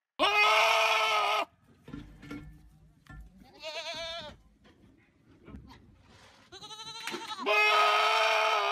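Giant goats let out loud, human-like screaming bleats, a long one at the start and more at the end, with quieter bleats and calls in between.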